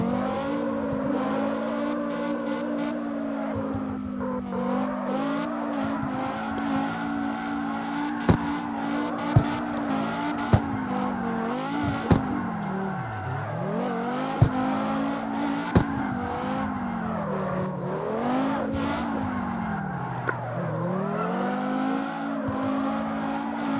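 A drift car's engine in the CarX Drift video game, played on a Thrustmaster T300RS wheel, revs and wails continuously, rising and falling through gear changes while tires squeal through long slides, with a few sharp clicks along the way.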